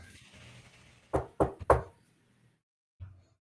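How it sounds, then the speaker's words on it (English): Three sharp knocks strike a door in quick succession, close and distinct, followed after a pause by one fainter thump, over a quiet background with a low murmur at the start. "I knock."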